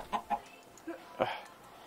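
Minecraft chickens give a handful of faint, scattered clucks, short and spaced apart against a quiet, hissy background.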